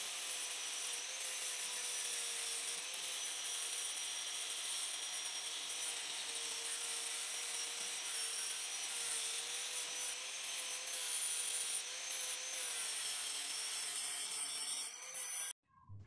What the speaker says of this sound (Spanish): Una vez soldado los dos lados, hay que pulirlo para darle un mejor acabado.